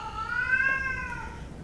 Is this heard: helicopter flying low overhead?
no